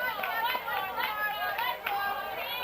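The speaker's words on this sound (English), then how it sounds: "the crowd noise for us is pretty good" High school baseball crowd at Spaulding Field, a Class L game, picked up by a crowd mic: a steady murmur of chatter and children's voices with scattered shouts, continuous and fairly close.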